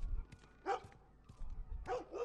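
A dog barks outdoors in The Last of Us video game, with a few sharp, moderately distant barks separated by quieter ambience.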